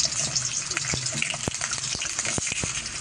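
Potatoes fry in hot oil in a pan, a close, steady sizzle and crackle dotted with sharp pops, with no voices.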